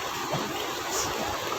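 Steady water flows in a continuous broadband rush at close range, holding even throughout with no pauses and no voices over it.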